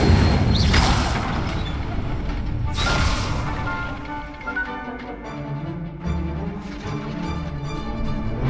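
A fire spell cast in Hogwarts Legacy, heard as a bursting whoosh and crackling blast followed by a lingering roar and rumble of flames, with layered game effects and no voices.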